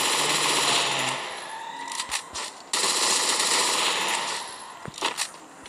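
An MP submachine gun fires in the battle royale game Free Fire, loud, fast automatic bursts, a long stream, a choppy pause with a few shots, then more sustained firing close up.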